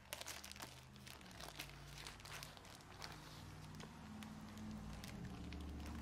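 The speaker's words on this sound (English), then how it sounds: "Let's open this bag and see what's inside" A bag holding smoked strip loin from an offset smoker crinkles and rustles close by in a quiet room, with soft, irregular crackles and rubbing.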